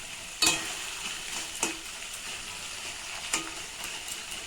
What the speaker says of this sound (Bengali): এবার এটা আমি অনবরত নাড়তে থাকবো